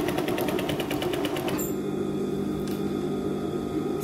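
A sewing machine stitches thin fabric with a steady close mechanical rattle and hum, its rhythm shifting partway through and then running on evenly.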